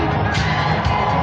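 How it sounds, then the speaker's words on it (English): Loud, close football crowd cheering and shouting at a Denver Broncos home win over the Cleveland Browns, a dense sustained roar with no talk over it. "Crowd fired up."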